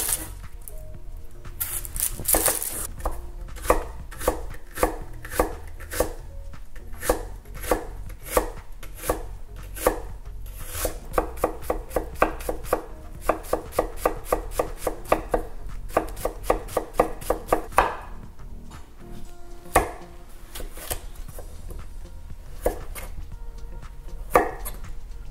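A knife chops red onion on a cutting board in rapid, close, crisp strokes, with fast rhythmic runs broken by short pauses.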